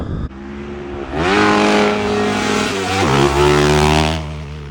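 A Stark electric dirt bike with no transmission is ridden hard. Its motor gives a loud, close, tonal whine that surges upward, dips briefly, then climbs again under a broad rush of wind and tire noise.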